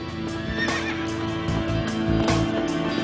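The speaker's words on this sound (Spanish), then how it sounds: "por la costa merodea una manada de caballos salvajes" A herd of wild horses roams a coastline, with repeated loud neighs and whinnies over hoof clip-clops and a steady background, close and continuous.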